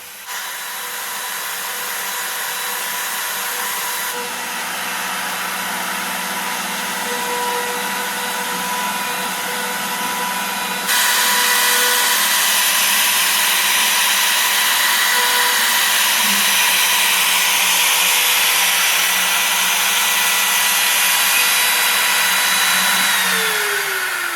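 A CNC router carves a letter into a wooden sign, giving a loud, steady, high whine with a continuous mechanical drone. The sound rises in intensity partway through and runs throughout with no talking.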